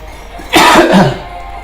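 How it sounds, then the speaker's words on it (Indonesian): A person gives a single harsh, close cough lasting about half a second, loud and alone with no talking. "gue masih sedikit batuk-batuk"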